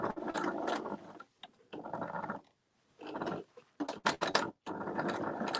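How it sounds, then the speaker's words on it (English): A sewing machine stitching over coiled rope to form a rope bowl runs in several short bursts of rapid mechanical whirring, separated by brief pauses, close and fairly quiet. "And then just sew right over."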